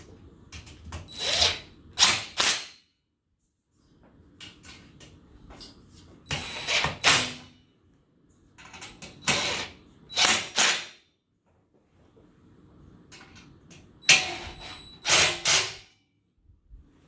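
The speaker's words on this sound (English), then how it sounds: "Now I can tighten everything down." A power drill drives in screws while an L-shaped gaming desk is assembled, whirring in four clusters of two or three short loud bursts, with quiet handling noises between them and no talk.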